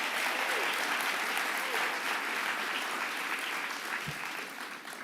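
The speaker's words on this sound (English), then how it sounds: "NABJ, please give that board of directors who worked so hard for you another round of applause" Audience at the NABJ opening ceremony applauding the board of directors, a steady dense wash of clapping throughout that tapers slightly toward the end.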